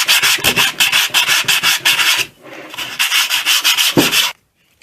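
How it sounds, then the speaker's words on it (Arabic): Sandpaper rubbed by hand across a metal air compressor part, mostly the gasket face, in quick repeated back-and-forth strokes that are close and loud, with a short pause partway through. It stops abruptly near the end. "الجهة الثانية نفس الطريقة صنفر"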